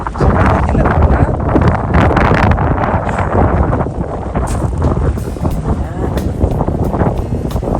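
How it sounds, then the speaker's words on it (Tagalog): Strong wind gusts buffet the microphone beside a lake, a loud, continuous broadband roar with rough, uneven surges throughout. "Malakas lang yung hangin."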